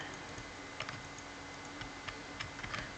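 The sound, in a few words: computer keyboard and mouse clicking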